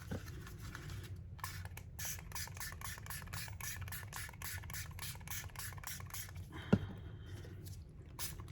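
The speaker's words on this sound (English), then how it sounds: "They're both coming out differently. The spray bottles." Two spray bottles of brown ink mist over altered index cards for junk journaling, a quick rhythmic run of about a dozen soft, close hissing spritzes at a quiet level.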